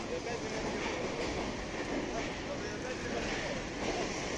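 A freight train hauling timber rolls past in a steady dense rumble with rhythmic wheel clatter, continuous and fairly close throughout.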